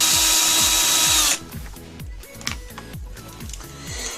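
A small power screwdriver or drill backs out 2mm headed screws from an RC car differential case, whirring loudly in quick pulses. Softer clicks and handling rattles of the plastic parts follow.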